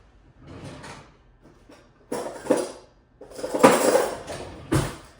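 Kitchen utensils rattle and clatter in a drawer as tongs are grabbed, giving several metallic bursts with short pauses between them. Close and moderately loud, with no talk.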